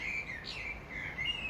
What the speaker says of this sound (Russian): Мы начинаем день с песни птицы.